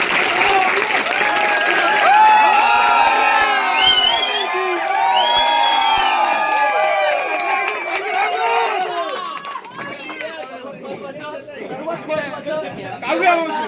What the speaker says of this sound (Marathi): एकदा जोरदार टाळ्या ओमकारसाठी.